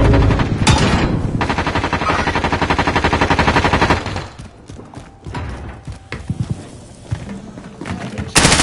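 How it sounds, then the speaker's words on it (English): Enemy sentry gun in a shooter game firing a long, loud, rapid mechanical stream of shots for about four seconds, then scattered bursts and clatter. "Enemy sentry gun active."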